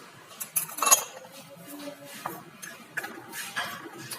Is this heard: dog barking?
no